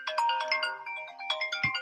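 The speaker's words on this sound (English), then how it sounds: "My phone is going off." A mobile phone ringtone rings out clearly on its own, a bright melodic electronic tune with repeated chiming notes over about two seconds, close and moderately loud, with a brief low thump near the end.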